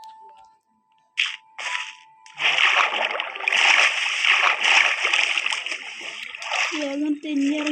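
Splashing water in the Minecraft video game: a few short bursts, then a broad, steady wash of splashing that runs to the end, with a voice talking over it.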